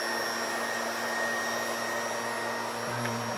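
A 1942 Westinghouse TBW-3 US Navy transmitter's 800 Hz AC inverter runs with a steady, continuous whine and hum, holding level throughout and shifting slightly in tone near the end.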